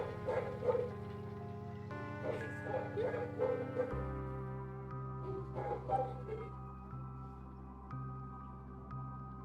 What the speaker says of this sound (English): She's all the way downstairs too, so she's pretty damn loud.